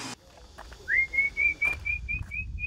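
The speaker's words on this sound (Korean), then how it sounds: "콧노래 대신 휘파람을 불고 있는데요" A man whistles outdoors on a coastal island with tidal flats, a clear single-pitched tune broken into short repeated notes after a soft thump, heard alone over faint background noise.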